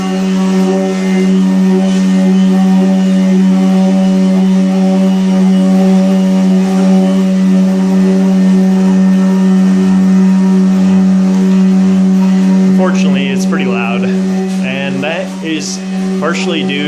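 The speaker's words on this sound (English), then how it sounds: "those motors are kind of snapping into place rather than gliding through their revolution" Stepper motors on a wheelchair lift mechanism unloading, a loud steady buzzing drone with strong tonal hum that runs throughout, later joined by jittery warbling whines as the motors snap between steps.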